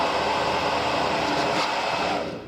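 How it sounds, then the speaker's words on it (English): A hairdryer roars steadily as it blows air into a small forge, a broad continuous rush of air that stays loud throughout and eases off slightly at the end. "we'll just start the hairdryer on now"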